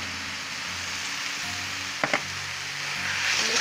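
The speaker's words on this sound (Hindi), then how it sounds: "अब इसको टमाटर डाल देंगे" Tomatoes hitting a pan of frying onion paste give a steady, close hiss of sizzling, with two quick bursts near the middle and the hiss swelling toward the end; no one speaks.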